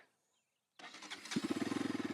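A Bajaj Pulsar RS 200 motorcycle starts up after a moment of silence: a short cranking burst, then the engine catches and settles into a steady, throbbing idle close by.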